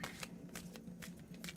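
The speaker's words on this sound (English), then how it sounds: "I'm going to cut and pull so that I don't have to worry about shuffling too much" Large tarot cards cut and pulled from a deck, giving a few quick, quiet riffling and sliding card sounds in short bursts, close to the microphone with no talk.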